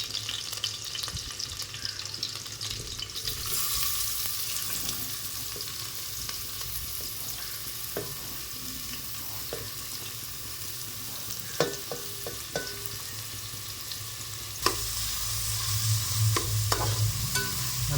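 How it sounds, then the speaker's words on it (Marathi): Chopped onion frying in hot oil with chili peppers in a pan, a steady sizzle with occasional stirring clinks and scrapes, close and continuous without talk. "मिरची तळल्यानंतर आता कांदा टाकायचा."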